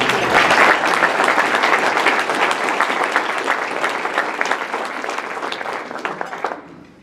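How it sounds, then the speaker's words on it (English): Sustained applause from an audience at a Rotary Club meeting, loud and close at the start, with individual claps growing more distinct as it gradually thins and stops. "Please give them a round of applause."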